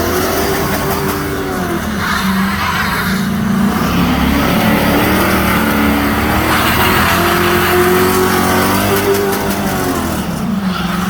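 A GMC Sierra pickup spins its tires in mud with its engine roaring loudly and continuously. The engine pitch rises and falls in long surges as the throttle is worked, with no voices over it.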